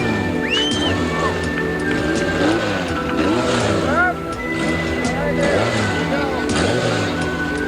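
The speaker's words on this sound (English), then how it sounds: "Bob Gordon, with the final roar of the engine, crosses the line." An off-road race vehicle engine roars at the finish of the 1987 Baja 1000, loud layered engine noise with rising and falling revs and whines, heard under commentary.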